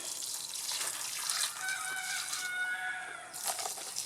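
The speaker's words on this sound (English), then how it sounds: "douse that with water that is mixed with neem oil" Water mixed with neem oil is poured onto moringa and papaya plants, a steady splashing trickle close by, with a rooster crowing faintly in the background.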